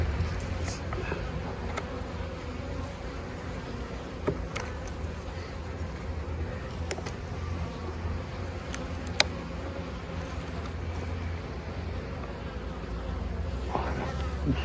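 Honeybees buzz at a hive opened for its first inspection of the year in late January, a steady close swarm hum alone throughout, with occasional sharp clicks and brief louder passes of individual bees.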